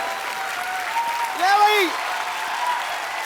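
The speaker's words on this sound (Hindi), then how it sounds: "तुम तालियां क्यों बजा रहे हो?" A studio audience on a Hindi comedy talk show applauds in a steady, dense wash of clapping that swells briefly mid-way, with a voice speaking over it.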